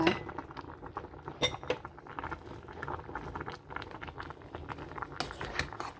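A pot of Thai bamboo shoot curry bubbles as mushrooms go in, with clinks of utensils on the pot and soft liquid patter close by, irregular and fairly quiet, no voices.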